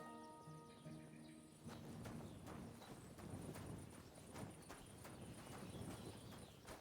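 Horse hooves clip-clopping at a steady walking pace in the video game Kingdom Come: Deliverance II, faint and fairly close, with soft ambient birdsong and tones behind.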